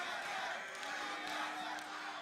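At the 2014 NA LCS final, an esports arena crowd cheers for TSM with a sustained roar of shouts and whoops, steady throughout and heard from within the audience.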